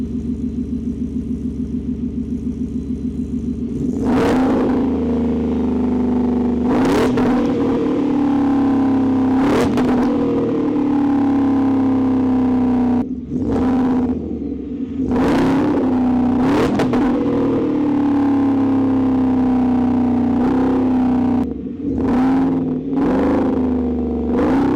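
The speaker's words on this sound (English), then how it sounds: "Let's do some revs next." Ford F-150 pickup truck with a custom exhaust, idling with a loud, steady rumble and then revved hard about eight times. Each rev is a sharp roaring burst that falls back to idle, recorded close up with no talking.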